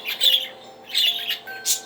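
Pet birds burst into excited bursts of shrill squawks and chirps, three loud close calls in quick succession with no voices over them.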